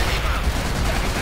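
A short burst of enemy machine gun fire from the World War II shooter Call of Duty: World at War, a dense, loud rattle of rapid gunshots running continuously without pause.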